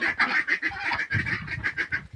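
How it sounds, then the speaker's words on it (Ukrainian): A muscovy duck calls near the microphone, a rapid run of hoarse, honking notes in uneven rhythm, repeated for a couple of seconds with no talk over it. "О, качечка є, знайшлася, я її шукав осінну цю качечку."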